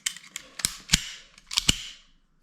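An airsoft pistol with a 5.1 slide fires several sharp, snappy shots in two quick clusters, with light mechanical clicking between them. The shots are close and moderately loud.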